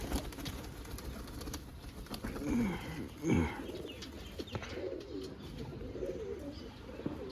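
Soft, low cooing from pigeons, a couple of throaty coos standing out over a quiet outdoor background with faint rustling.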